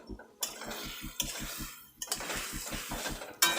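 A metal spoon stirs chopped tomatoes with turmeric and chili powder in a cooking pot for a drumstick and small rohu fish curry. It clinks and scrapes in a rapid, rhythmic series close up, with occasional louder knocks against the pot.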